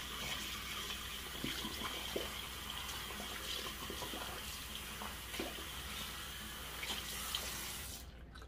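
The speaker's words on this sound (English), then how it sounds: "Rinse it out." A tap runs steadily into a sink while a shaving brush is rinsed under it, a continuous close splashing flow with small bubbling variations, cutting off at the very end.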